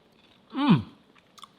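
Crunchy air-fried food being chewed close up, a single loud crunchy bite lasting under a second, followed by a couple of faint soft clicks, with no talking.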